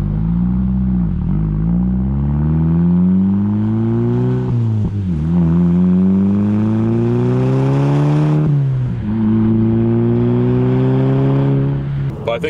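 Volkswagen MK5 GTI fitted with an ECS 3-inch cat-back exhaust revving loud and close, with rising and falling engine tones repeating across several pulls and no talk over it.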